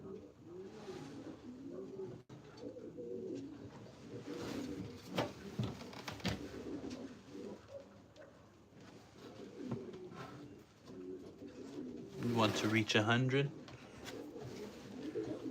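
Pigeons coo in a breeder loft, soft rolling coos recurring throughout over close chatter from a person speaking, with a louder burst of bird calls near the end.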